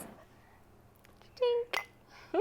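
Glasses clink once in a toast over jasmine tea, a light bright tap between quiet moments, with people talking softly around it.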